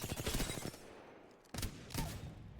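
Hip-fired Wingman pistol gunshots in a video game: a rapid cluster of sharp, loud reports up front, then two more single shots spaced about half a second apart, with no voices.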